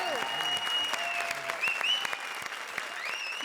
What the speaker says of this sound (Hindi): जोरदार तालियां हमारी वाइल्ड कार्ड एंट्री के लिए